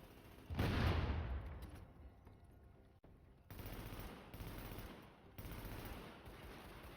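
Gunfire from The Division game, a loud burst of rapid automatic shots followed by several further sustained bursts of firing, dense and continuous, with no voices.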